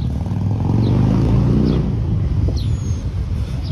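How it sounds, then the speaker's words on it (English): A loud motorcycle roars past in a city park, its engine rumbling and revving close by and then fading as it moves away, with no talking. "Wow, that's one classy motorcycle."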